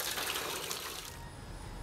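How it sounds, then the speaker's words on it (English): Morning water pumping in Tuvalu, a steady rushing gush of water that stays close and continuous for the whole stretch, with a low rumble underneath and no voices. "and also there's a water pumping."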